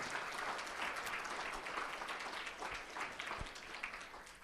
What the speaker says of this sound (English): please give a round of applause to Neil,